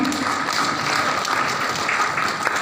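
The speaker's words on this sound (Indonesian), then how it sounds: "Tepuk tangan dulu untuk para perempuan." An audience applauds at a university scientific oration honouring women professors, a steady, dense wash of clapping that fills the whole stretch without a break.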